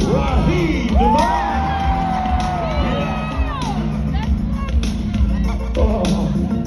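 A Southern Soul concert crowd cheers, whoops and shouts in a loud, continuous roar, with individual high yells rising above the din and voices mixed in throughout.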